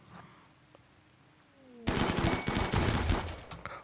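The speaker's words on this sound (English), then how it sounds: "Oh, there are large caliber shotgun turrets down here." Large-caliber shotgun turrets open fire in the colony game RimWorld: after a quiet stretch, a loud, dense burst of rapid shots rattles on for about two seconds.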